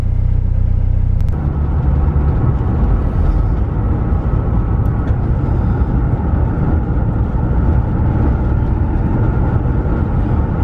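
A Volkswagen Vanagon T3 van drives at night, its engine and road noise forming a loud, steady low rumble from inside the cabin, with a slight shift in tone early on and no talking.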